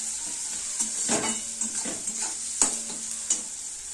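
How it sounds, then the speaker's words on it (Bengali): Ground spices and cumin powder fry in hot oil with onion, sizzling steadily while a spatula scrapes and stirs through the pan in several strokes, with a couple of sharper clicks against the metal. "আর একটু জিরের গুঁড়ো দেবো মশলাটা ভালো করে ভাজা ভাজা কষা কষা মতন করতে হবে"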